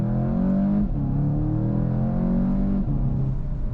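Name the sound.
2021 Volkswagen GTI accelerating on the Autobahn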